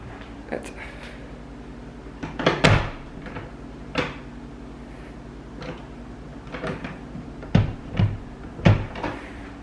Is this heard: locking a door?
yes